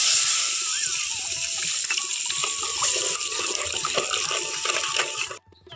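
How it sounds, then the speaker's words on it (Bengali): Water pours steadily into a pan of cooked capsicum and tomato, a close, continuous splashing gush that cuts off abruptly at the end. "এখন এর মধ্যে দিয়ে দিচ্ছি জল।"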